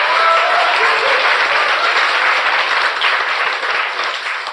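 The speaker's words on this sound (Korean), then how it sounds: "이게 박수까지 칠 일인지 모르겠는데" Studio audience applause at a live political talk show, a steady, dense burst of clapping that holds strong and begins to fade near the end, with no speech over it.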